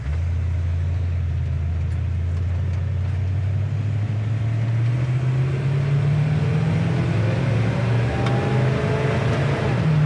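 A 1957 Chevrolet Bel Air drives steadily, its low engine hum heard from inside, then rising in pitch as it pulls through a gear change with a constant road rumble.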